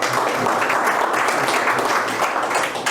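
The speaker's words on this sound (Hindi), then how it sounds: "तो इसके लिए एक बार जोरदार ताली होनी चाहिए।" Dense, even applause rises from a seated audience at a wellness-product business meeting and holds strong and continuous for the whole stretch.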